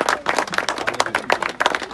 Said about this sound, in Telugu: క్లాప్స్ కొట్టండి బాయ్స్